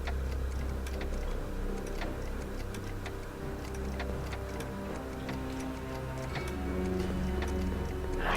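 A clock ticks steadily in the Back to the Future adventure game, its regular beats sitting over a continuous low musical and ambient bed throughout.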